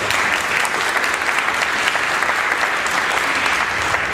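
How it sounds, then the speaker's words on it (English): Dense, steady applause fills a school board of education meeting in South Plainfield, New Jersey, as an audience claps continuously for a departing teacher. "Round of applause."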